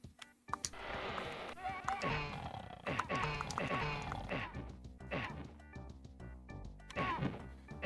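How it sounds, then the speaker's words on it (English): Bleating from a goat in Minecraft, recurring among busy game sounds and other noises. "I hear a goat."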